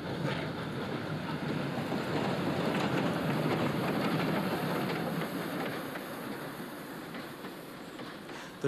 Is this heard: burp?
no